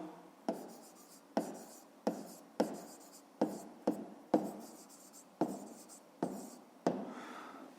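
Pen strokes on paper while a math solution is written out by hand for a fifth-grade exercise: about a dozen short scratchy bursts in an uneven rhythm, close and fairly quiet, with no talking.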